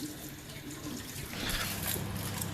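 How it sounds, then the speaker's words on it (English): Water from boiled sweet potatoes pours out into a kitchen sink, a steady splashing rush that grows louder and brighter in the second half, with no talk. "Drain the water."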